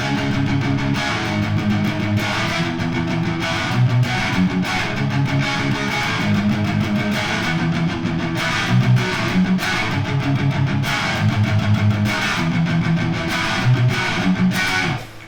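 Distorted electric guitar chugs through palm-muted power chords in a tight, rhythmic pattern of mostly downstrokes, loud and up close, with occasional open accents; verse part of a song.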